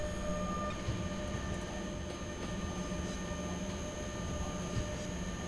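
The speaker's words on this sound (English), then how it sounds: "That's a big train." A heavy coal freight train in the SimRail train simulator runs uphill at max power, giving a steady, dense rumble with faint high wheel tones. The noise holds throughout with no voices.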